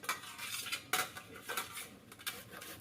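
Peeled tapioca root is rubbed against a kitchen grater in quick, uneven scraping strokes, faint and close, with no talk.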